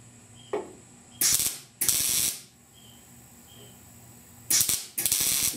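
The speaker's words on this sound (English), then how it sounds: "Let's weld them up." Short bursts of MIG welding on pinholes in the rusty upper cowl of a 1969 Chevy C10 truck: four loud crackling, buzzing runs of about half a second each, separated by quiet gaps.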